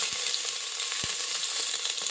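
Mustard seeds, urad dal, dried chillies and curry leaves fry in hot oil while cooking potato kootu curry, giving a steady close sizzle with scattered pops and crackles, no voices heard.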